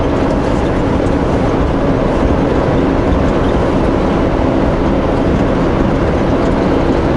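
A truck descending the Hope Slide with its engine brake engaged gives a loud, unbroken, close drone of engine and road noise that runs from start to finish.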